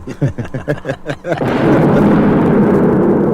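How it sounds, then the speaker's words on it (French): A time bomb blows up a house in a Tintin audio drama, a sudden heavy blast with a long roaring rumble after brief rhythmic sounds at the start. "Ça y est, la baraque a sauté."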